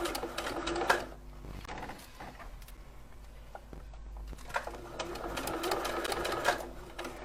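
An electronic sewing machine stitching fabric while piping is sewn into a dress, with a rapid mechanical whirring that runs in bursts, slows in the middle, then speeds up again, heard close up.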